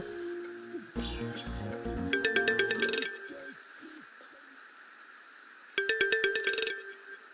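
A mobile phone rings in a drama scene, its electronic ringtone sounding in two bursts of rapid repeated tones over a musical score and background sound, fairly loud and close.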